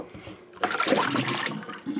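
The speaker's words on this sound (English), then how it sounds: "right now, I'm washing out this bowl" Running water splashes while a bowl is rinsed out during autumn olive jam making, starting with a soft trickle and then turning into a steady, close gush that fades near the end.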